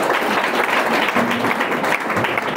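Dense applause from a church congregation, many hands clapping together in a continuous close wash with a faint voice mixed in.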